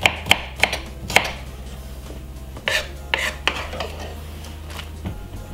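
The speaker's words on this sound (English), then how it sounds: "I'm just using my small knife just to cut up all of these right here." A small, very sharp kitchen knife chops fresh salad vegetables on a board, a few sharp taps and clinks up close over a steady low hum, with no voices.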